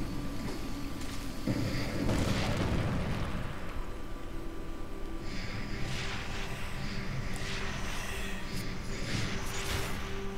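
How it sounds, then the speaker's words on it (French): A bomb goes off in the video game Darksiders II, a loud, heavy blast with a rumbling tail early on, followed by lighter bursts and crackling over a steady game soundtrack. "Je dois utiliser une bombe là-dessus."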